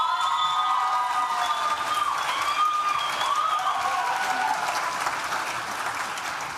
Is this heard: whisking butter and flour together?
no